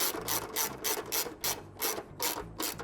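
A ratchet wrench tightens bolts mounting Biltwell Exfil-36 bags on a 2017 Harley-Davidson: repeated quick bursts of rapid clicking, close and fairly crisp, in a steady back-and-forth rhythm.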